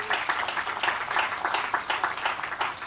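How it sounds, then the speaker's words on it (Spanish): Church congregation clapping in praise during a Spanish-language sermon on divine healing: a short burst of brisk, uneven applause from many hands at moderate distance, with no voices over it. "Den un aplauso al Señor, por favor."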